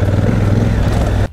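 Off-road on a small dirt path, a 2018 Honda Africa Twin Adventure Sports DCT motorcycle engine drones loud and close with a throbbing low rumble, then cuts off abruptly at the end.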